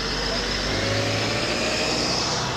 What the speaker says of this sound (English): That's the truck that takes all our luggage.